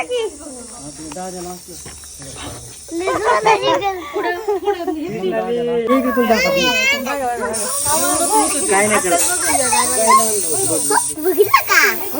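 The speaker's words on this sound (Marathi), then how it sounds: "ते छोट्या सापाचाच आवाज एवढा आहे मग विचार करा मोठ्या सापाचा आवाज केवढा असेल" A small, agitated snake hisses in steady breathy bursts, close and persistent beneath excited talk from several people, including a voice.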